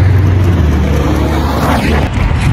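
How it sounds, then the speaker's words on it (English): Cars pass close by, loud and rushing, with a rising and falling whoosh as one drives past and engine noise that stays heavy throughout. "cars came"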